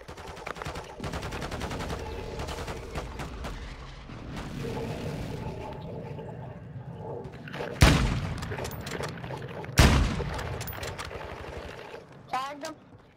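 Rapid gunfire from a weapon in the online shooter Modern Warfare 2, bursts of shots with two sharp loud blasts, heard under players talking over voice chat.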